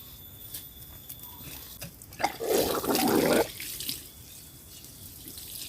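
Liquid fertilizer is poured around the roots of a California papaya plant in the dry season, a single splashing pour of about a second against quiet outdoor background.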